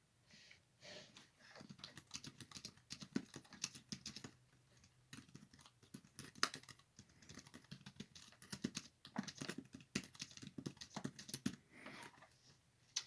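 Quiet, irregular keystrokes on a Pinetab tablet keyboard tap out in uneven bursts and short pauses, close up and fairly soft, with no speech over them.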